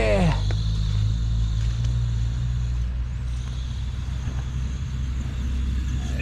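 A Redcat MT18 mini RC monster truck drives off-road through snow, its small motor whirring steadily under a broad, constant hiss and rumble, with a brief rising whine at the start.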